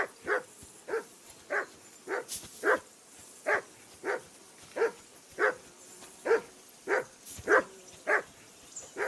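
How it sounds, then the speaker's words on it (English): A dog in a video game barks repeatedly at an even pace, about a dozen sharp barks, moderately close, with a faint background hum and no talking. "Jesus, Henry, that barking's driving me nuts."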